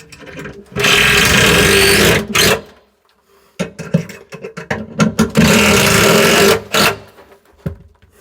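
A power driver runs screws in to mount a kitchen cabinet, firing in long loud whirring bursts, then a series of shorter stuttering pulses as each screw seats, separated by brief quiet gaps.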